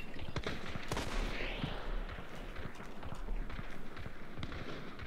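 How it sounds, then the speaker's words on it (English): Gunfire in Hunt: Showdown, a rapid scatter of sharp shots of varied distance, some coming from a house, popping in quick succession over a steady background. "I'm getting shot from the fucking house, too. That is a lot of shots."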